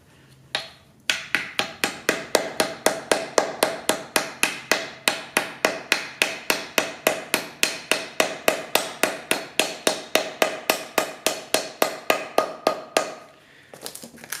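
Steady metal-on-metal hammer blows drive new bushings into the shock and rear mounts of a 1997–2001 Honda CR-V front suspension, about three strikes per second, loud and close, running for roughly twelve seconds with no talk.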